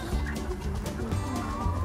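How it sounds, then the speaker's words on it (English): A rooster clucks on a Swiss farm amid loud, busy background noise, with short fowl calls close by and little talk. "Oh, a rooster."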